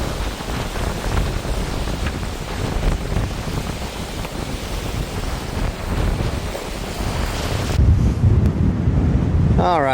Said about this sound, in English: all of those waves and that headwind are blowing straight in from the direction I need to be going